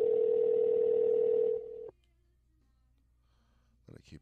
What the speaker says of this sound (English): Give two more rings.